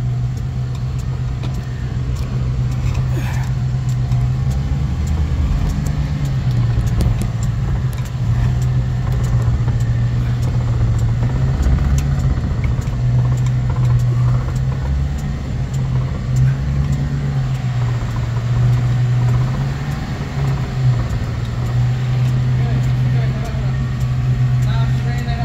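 A 1937 Cord 812 with a supercharged V8 drives along with a steady, close, low engine drone and road rumble that holds throughout, while people talk over it.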